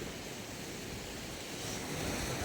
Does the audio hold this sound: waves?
yes